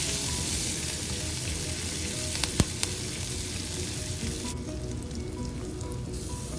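Green chilies, curry leaves, ginger and oil frying in a pan give a steady, dense sizzle throughout, with a couple of sharp utensil clicks partway through.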